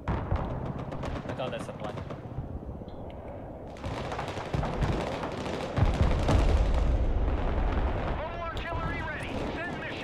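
Game explosions and gunfire boom through a Broken Arrow air strike on an enemy supply area, dense rumbling blasts building from mid-clip with someone talking over the battle.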